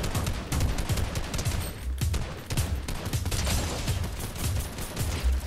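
Rapid bursts of Fortnite gunfire crackle in quick, uneven volleys, loud and close, sounding like a sustained firefight with overlapping shots throughout.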